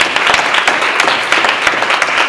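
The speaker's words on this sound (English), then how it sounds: "Let's just give a round of applause to all the brothers so far." A room full of people applauds loudly during a live talk session, dense continuous clapping from a large group heard close and alone, without speech over it.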